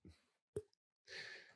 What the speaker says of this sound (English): What does it sound like again when you bite down on that breaker?